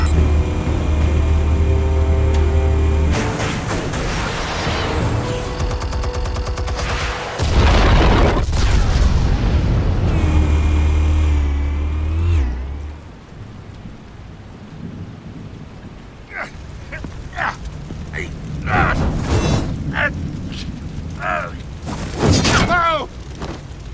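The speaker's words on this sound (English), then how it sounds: "Explosives armed. Fire when ready." Explosions in the Telltale Batman video game, heavy booming blasts with rumbling roars and crackling debris that rise and fall over the scene, followed by quieter clattering and sharp hits.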